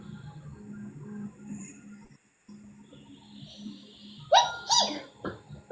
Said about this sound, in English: That was like a pixie sneeze.